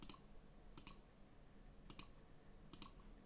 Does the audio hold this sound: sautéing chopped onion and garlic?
no